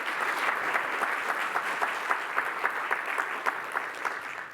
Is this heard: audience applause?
yes